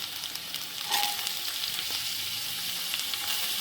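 Garlic, green chilli, onion, carrot, capsicum and spring onion whites sautéing in a pan for veg Hakka noodles, a close, steady sizzle with a brief utensil clink, no talk.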